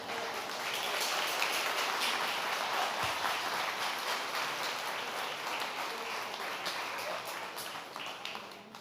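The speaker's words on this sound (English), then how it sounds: "How about another round of applause for all of our presenters today?" Sustained crowd applause fills an audience hall at a university research presentation night, a dense, steady wash of many hands clapping for the presenters at close range that tapers slightly near the end.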